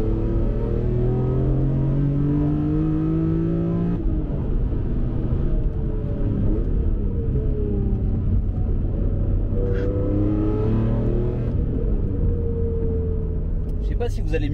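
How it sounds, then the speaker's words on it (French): A BMW E46 M3 CSL drives under load with a steady, loud cabin roar from its engine and air intake box, and the pitch rises and falls through the gears, heard from inside the car. "On entend bien le bruit de cette boîte à air."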